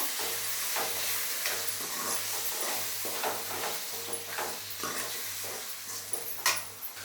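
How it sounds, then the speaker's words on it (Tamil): Chopped onions and tomatoes with curry leaves sauté in a pan, a soft steady sizzle with faint stirring scrapes and a low background hum, fairly quiet and without speech. "நல்லா அப்படி வதக்கி விடுங்க"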